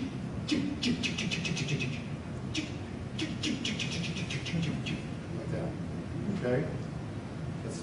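A person imitates the call of a red-bellied woodpecker during a bird talk, giving bursts of rolling, chirpy notes repeated a few times over several seconds, fairly close and clear against a faint room background.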